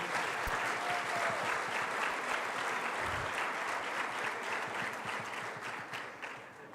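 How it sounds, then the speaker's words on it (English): A crowd applauds steadily and loudly, the clapping sustained throughout before easing off slightly near the end. "So please, round of applause for Mr. Robert Valsen and our partners here."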